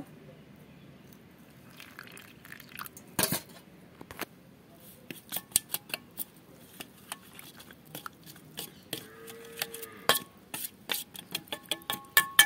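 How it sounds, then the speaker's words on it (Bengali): Cumin, chilli and coriander powder mixed with a little water in a bowl, heard as a series of close, sharp spoon clinks and scrapes that speed up toward the end, with a faint watery swish and no talk. "এই মশলাটা আমি একটু জল দিয়ে গুলিয়ে নেব"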